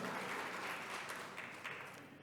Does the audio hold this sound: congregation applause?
yes